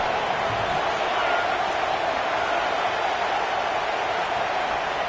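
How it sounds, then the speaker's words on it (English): A home crowd at a UCLA college football game roaring loudly, a dense, steady wall of cheering and noise that holds unbroken throughout, with an announcer talking over it. "how nice is it to have the home crowd going absolutely bananas?"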